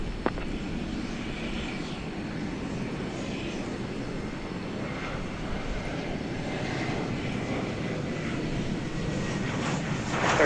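A Qantas airliner takes off at night at Dallas Fort Worth Airport, its engines a steady, loud, broad roar sustained throughout, with no voices over it.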